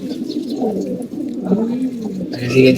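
Domestic pigeons kept for breeding coo close by in low, rolling, continuous calls, loud and clear, with a faint voice in the background.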